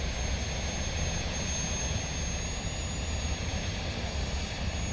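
Airplane jet engines roaring in Transport Fever 2, a steady loud whine and rumble that holds even throughout, with a thin high-pitched tone riding on top.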